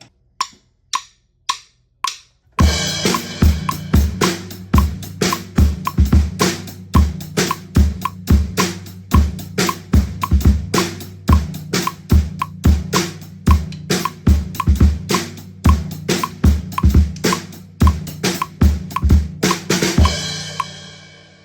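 Drum kit plays the first half of the verse pattern of a song, opening with a few solo clicks, then a steady loud groove of punchy kick and snare hits with cymbals, no talking.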